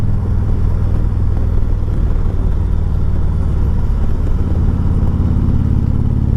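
A 2017 Harley-Davidson Tri Glide Convertible with a lift kit installed rides along curving roads, a loud steady low engine rumble with wind noise close to the microphone, continuous and without talk.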